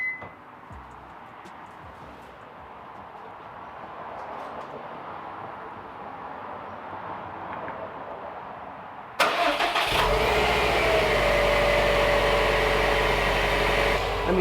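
A Subaru WRX STI with a newly installed cold air intake cranks and fires up after a long quiet stretch, then settles into a loud, steady idle close by.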